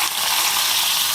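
Onions frying in hot oil with popped mustard seeds, a steady dense sizzle close by that holds evenly throughout, with no voices.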